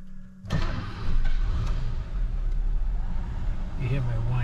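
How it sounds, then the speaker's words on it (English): A Maybach 62 with self-leveling suspension starts up and its supercharged engine settles into a steady running note with a faint supercharger whine, close by, while people talk over it. "that's a whiny supercharger"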